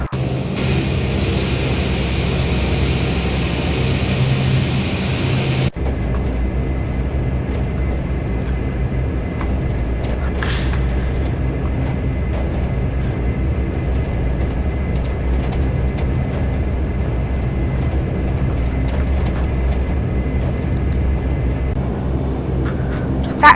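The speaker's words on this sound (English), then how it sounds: "Taxi along this little Flybe plane." A Flybe DH8D turboprop taxiing in the FSX flight simulator, a steady droning engine hum that holds at a constant level, with a sharper high whine at the start that drops away early on.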